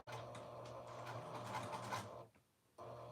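A sewing machine runs in a steady mechanical whir while back stitching a 3/8 inch seam on a dress, stopping briefly near the end before starting up again, close and clear with no voices.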